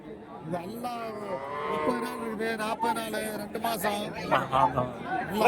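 Calves moo repeatedly at the Karimangalam cattle market in Dharmapuri, giving several drawn-out, wavering calls close by, while people chat in the background.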